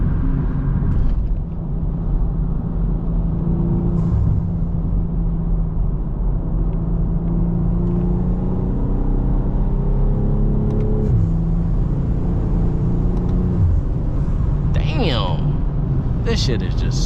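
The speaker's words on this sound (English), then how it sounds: "The shifts on this car are just so fucking smooth" A BMW M340i pulls hard on the road, its engine note rumbling and rising in steady steps through smooth gear changes, loud and close from inside the cabin while someone talks over it.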